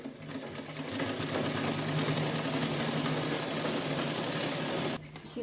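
A sewing machine runs steadily while stitching a cloth bag, its close, continuous mechanical whir and rapid needle rhythm holding for several seconds before stopping abruptly near the end.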